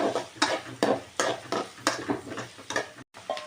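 Onions frying in a pan are stirred with a utensil, giving a steady rhythm of scraping strokes roughly every half second over soft sizzling. Close and fairly loud, with a brief gap near the end.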